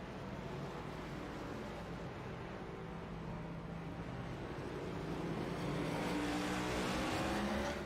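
Race cars on pit road during the Pocono 200, a dense, continuous engine roar that swells slightly toward the end, heard at a distance with no talking.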